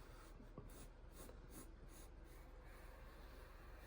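A pencil sketches lightly on paper, starting a drawing of a sea turtle: a soft, continuous scratching with faint rhythmic strokes, close and quiet, no talking.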